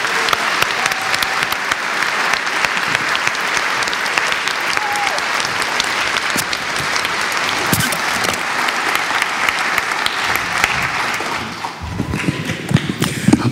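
A congregation gives a sustained round of applause, steady dense clapping that fills the room for about eleven seconds before tapering off, with a few scattered claps and murmurs at the end.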